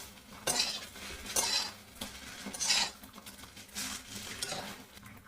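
Chowmein noodles fried in a pan without vegetables, with a utensil scraping and clinking against the metal in repeated stirring strokes over a soft low sizzle, close and moderately loud, no talk.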